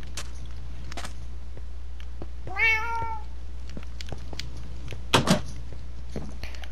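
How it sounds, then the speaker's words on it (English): A single cat meow from a Minecraft cat on PS4 sounds once, mid-length and clear over a quiet background, followed by a couple of short knocking clicks. "Funny how I have to push a cat."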